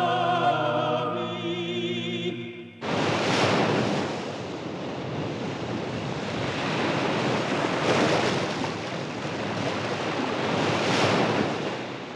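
Sea waves roll and crash steadily on the shore with wind noise, loud and continuous after a brief musical passage at the start.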